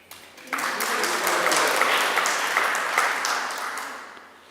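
An audience in a lecture hall breaks into warm applause for a chief engineer, the clapping rising quickly, holding steady for a few seconds, then fading out.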